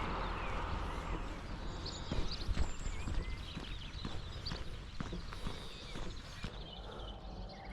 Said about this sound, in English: Is this a pony or a horse?